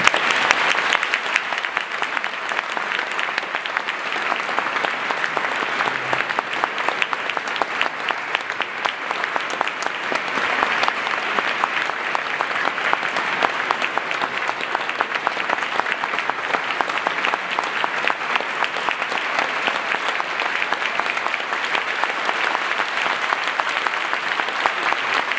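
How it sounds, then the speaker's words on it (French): Sustained applause from a large audience at an official ceremony marking Armenia's 25 years of UN membership and of diplomatic relations with Switzerland, steady and dense clapping for about 25 seconds with no voices over it. "Je vous demande de l'applaudir."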